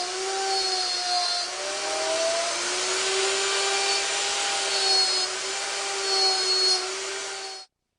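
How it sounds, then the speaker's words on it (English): Homemade slot mortising machine cutting mortises for a wooden table's legs, heard as a loud continuous motor whine with a rasping cutting roar that runs steadily before stopping abruptly. "I'm using my homemade slot mortising machine to cut the mortises."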